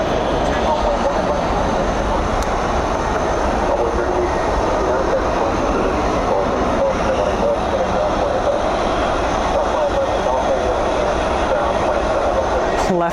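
A Boeing 757 crossing runway 18 right at Dallas Fort Worth airport at night gives off a loud, steady jet-engine roar that fills the whole stretch without letting up.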